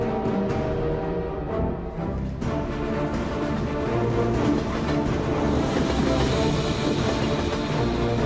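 A train runs along rails in the video game Infected: The Twin Vaccine, a steady rumbling roll with faint rhythmic clacks that grows slightly louder and denser partway through.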